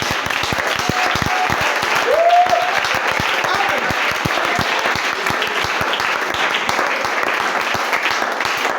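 A church congregation breaks into sustained applause, dense rhythmic clapping throughout with a brief vocal cry partway through, loud and close.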